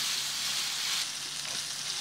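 Chicken and potato mixture sautéing in a frying pan, a steady close sizzle and crackle of hot oil throughout, with no voices.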